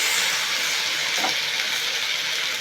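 Jute leaves sizzle and hiss steadily in a hot pan as they are stirred, with a brief scrape partway through and no talking.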